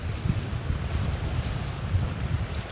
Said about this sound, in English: The gusts are just bursting through along this loch and getting such big waves for just a loch.